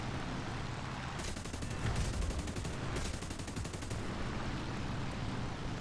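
Yak-3 fighter machine guns in the War Thunder flight game: two rapid bursts of gunfire, each about a second long, over a constant loud engine drone.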